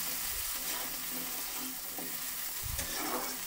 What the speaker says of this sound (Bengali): আবারও একটু নাড়িয়ে দিতে হবে।